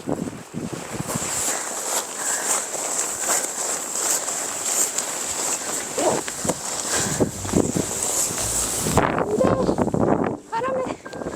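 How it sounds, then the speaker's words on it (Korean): Wind gusting across a campsite, loud buffeting and rushing against the microphone that continues for about eleven seconds before easing near the end, with people talking at times under it. "바람이 불어서"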